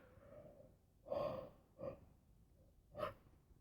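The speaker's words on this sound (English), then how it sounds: "Seriously, I don't know why I'm yawning so much." A person yawns with drawn-out breathy exhales and a couple of shorter gasping breaths, close and fairly quiet, with no talking.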